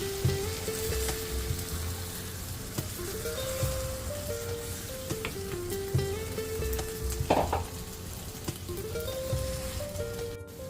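Chicken pieces frying and being stirred with coconut milk in a pan for a Kerala-style chicken roast, a steady close sizzle with occasional spoon scrapes and clatters, no talking.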